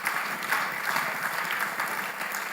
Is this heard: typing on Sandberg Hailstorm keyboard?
no